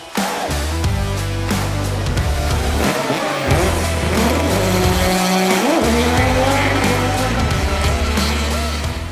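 A loud Volvo race car engine roars and revs hard through gear changes at Gatebil, with tire squeal and a constant close, heavy rumble heard from the passenger seat.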